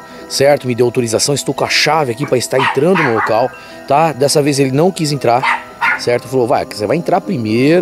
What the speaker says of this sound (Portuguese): Vocês devem estar escutando o cachorro latindo aí.